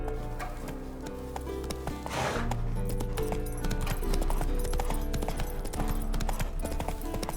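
Geralt's horse Roach trotting in The Witcher 3: Wild Hunt, steady rhythmic hoof clip-clop at close range with a faint game music bed and a brief snort near the middle.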